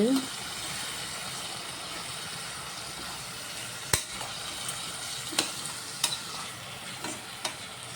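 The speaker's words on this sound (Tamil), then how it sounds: "இப்போது வேக வச்சுருந்த சுண்டலை சேர்த்து நல்லா வதக்கிடலாம் மசாலாவோடு சேர்த்து" Boiled chickpeas being sautéed with masala in a pan for a sundal biryani: a steady, soft sizzle of frying with a few sharp spatula taps near the end.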